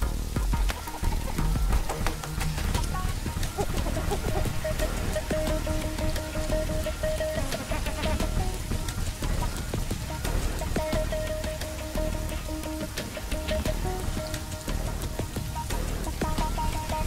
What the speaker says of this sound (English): The rain is over.